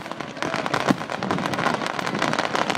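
Canada Day fireworks in Calgary, a dense continuous crackle of many small bursts and pops with no pauses, fairly loud and steady throughout.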